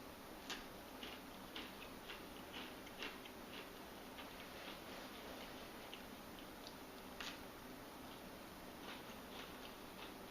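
MRE flameless heater bubbling and heating a meal, a faint, irregular ticking and popping, quiet and close, with no voices.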